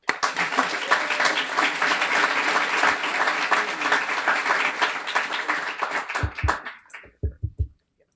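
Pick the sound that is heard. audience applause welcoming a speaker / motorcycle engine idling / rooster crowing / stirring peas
audience applause welcoming a speaker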